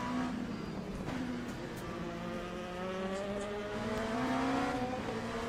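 A race car in Le Mans Ultimate pulls away gently on cold tyres, its engine note climbing steadily in pitch through the gears as a continuous, moderately loud drone.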